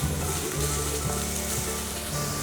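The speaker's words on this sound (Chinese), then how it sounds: "快速的翻炒" Potatoes and rice beans stir-fried quickly in a pan, a dense continuous sizzle and crackle close up, loud and unbroken with no talking.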